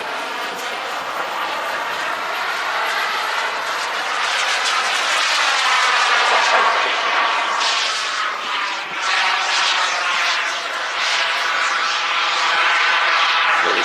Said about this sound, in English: So here he comes now with, looks like the Yak 130 and a gear pass.